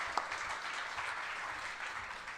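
A holiday celebration at a Rotary meeting, where an audience gives a brief burst of applause for an intermediate choir: fairly faint, slightly distant clapping that holds evenly for a couple of seconds.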